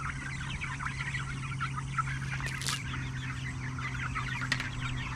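A flock of backyard chickens clucks busily at feeding time, many overlapping soft clucks and calls at close range alongside a steady low background hum, with no talk.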